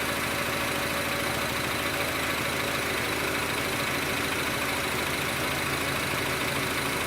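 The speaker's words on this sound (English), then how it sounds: "The car has been idling just for a couple minutes." A 2006–2011 Honda Civic engine idles as it warms up, holding a steady, even hum with no change in pitch and no voices.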